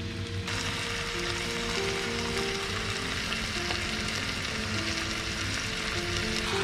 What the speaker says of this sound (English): we're just going to slowly add the cabbage until it wilts down